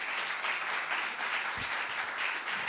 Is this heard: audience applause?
yes